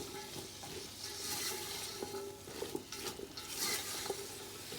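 Chow mein is tossed with Chinese sauce in a pan. It makes a soft, continuous sizzle, with faint scraping and clinks from stirring, close but quiet.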